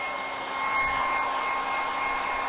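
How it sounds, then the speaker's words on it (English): A hair dryer blows steadily to dry paint on a stencil over cardboard, a loud, close, continuous whooshing roar with a faint tonal whine running through it. "So I will just hit that with the hairdryer over here."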